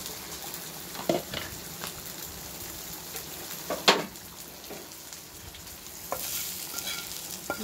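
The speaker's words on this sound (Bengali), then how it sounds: "পেঁয়াজ ভাজাটা এবারে চিকেনের সাথে মিশিয়ে নেব" Fried onions stirred into chicken in a pan for chicken do pyaza, a steady soft sizzle broken by a few scraping stirs of the spoon, close and fairly quiet with no voices.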